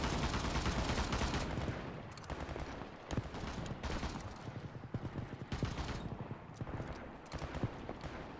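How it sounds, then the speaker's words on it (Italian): Rapid, sharp gunshots from a sniper in the World War 3 video game crack out in irregular bursts, loud and close, over a dense, continuous bed of battlefield noise. "Sta quello cecchino che spara a tutti."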